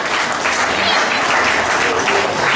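Audience applause for a cameraman being honoured at a francophone community event, a steady dense wash of clapping through the whole short stretch, with possible voices mixed underneath.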